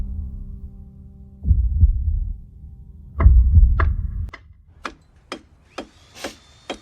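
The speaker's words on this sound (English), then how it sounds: "at the very beginning you can hear these two things, a clock ticking and a heartbeat-like rhythm." In the Stranger Things epilogue, a low heartbeat-like throbbing pulses twice before giving way to a series of sharp, evenly spaced clock ticks, all clear and close with no talk.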